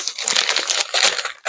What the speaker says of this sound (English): There's tearing paper everywhere.